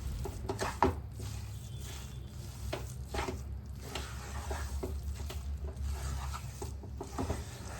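A spoon works sugar syrup into water chestnut flour for laddu, making continuous close scraping, rubbing strokes in an uneven rhythm with occasional firmer knocks.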